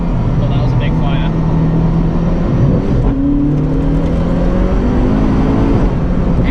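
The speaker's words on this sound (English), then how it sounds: "the superchargers obviously build the power, and the more you're on the throttle, the more power there is" A supercharged Zenvo supercar at full throttle, heard from inside as a steady, loud engine roar with a rising whine, continuous throughout while people talk over it.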